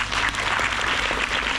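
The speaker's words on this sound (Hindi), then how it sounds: "तालियों की गड़गड़ाहट में कुछ कमी आ रही है।" An audience at a Hindi kavi sammelan poetry recital applauds in a short, dense burst of steady clapping that neither builds nor fades.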